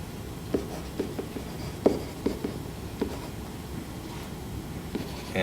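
Pen or pencil scratching on paper while a geometry proof is written out, with soft, intermittent strokes and small taps at irregular intervals, close and faint over a quiet room hiss.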